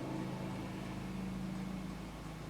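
An ATV four-wheeler runs along an old rural road, a steady droning engine hum heard at moderate distance with no talking, holding fairly even throughout.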